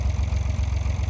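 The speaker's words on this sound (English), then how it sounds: "I got the tractor going, got the potato plow hooked up" A tractor engine idles steadily nearby with a low, even throbbing rumble, hooked up to a potato plow on a farm.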